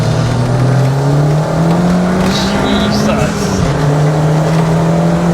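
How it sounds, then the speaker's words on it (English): A turbocharged Mk4 Ford Fiesta with a Mk7 ST180 engine pulls hard on an open road, heard from inside as a loud sustained engine drone rising in pitch with turbo whistle and hiss, while a passenger exclaims briefly. "all you can hear is turbo noise"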